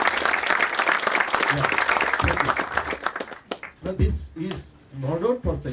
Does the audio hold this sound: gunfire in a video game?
no